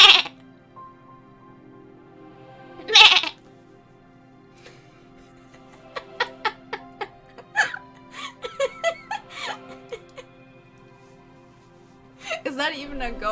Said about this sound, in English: it's not a screamy goat. It's a squeaky goat.